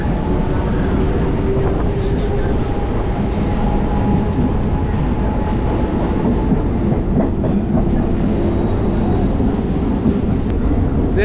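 An EMU local train running on the Howrah–Digha line, with a steady loud rumble and rhythmic clickety-clack of wheels on rails heard from on board, continuous throughout.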